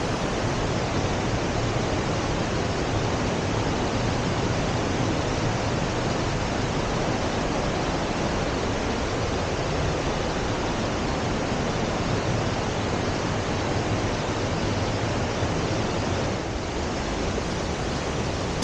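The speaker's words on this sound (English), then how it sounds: "it can be a huge gushing waterfall, as we see here in winter" Latourell Falls in winter, a huge waterfall roaring in a dense, continuous broadband rush that stays loud and unchanging throughout, with no voices.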